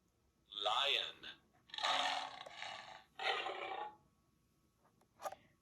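A lion roars in three long, rough, rising-and-falling bursts separated by short gaps, then a brief faint grunt, loud and close with no talking over it.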